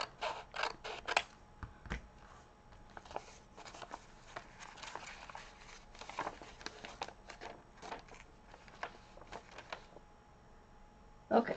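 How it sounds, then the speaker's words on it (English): A junk journal page being trimmed at the end, a run of quiet irregular creaks, snips and rustles of paper, close and faint with no talking. "I'm just trimming a little tiny bit off of the end."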